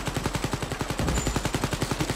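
Laser gun firing in Wolfenstein Youngblood, a rapid steady rhythm of sharp repeated pulses, about ten per second, close and continuous, with no talk.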